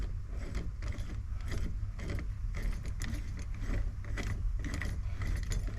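A shift boot part on a 1968 to 1976 Corvette C3 Stingray is unscrewed by hand, giving close, repeated ratcheting clicks and small mechanical creaks in an irregular rhythm, with no talking.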